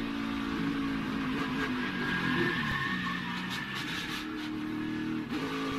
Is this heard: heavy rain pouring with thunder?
no